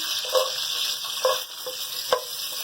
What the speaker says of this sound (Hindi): कड़ी पत्ते के साथ ही हम अपना अदरक लहसुन 1 चम्मच डालेंगे।